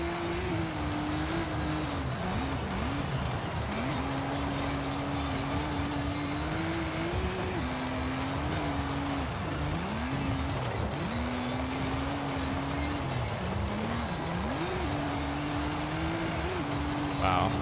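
Race car engine in Forza Horizon 5 drones steadily with repeated pitch climbs and drops through gear changes and cornering, tire squeal mixed in, while someone talks over it throughout.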